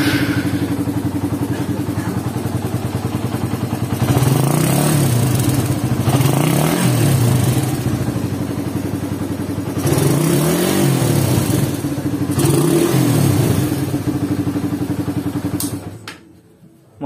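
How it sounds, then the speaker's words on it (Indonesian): A Suzuki Satria FU motorcycle engine runs after repair on a bike in poor condition, with a loud, close, steady rough idle that swells in a few brief revs before cutting off at the end. "Motor sudah bisa stasioner langsam, RPM sudah enteng."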